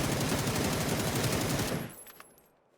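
Rapid automatic gunfire from a scoped gun in a video game fires as a loud, dense burst for close to two seconds, then stops abruptly, leaving a short fading echo.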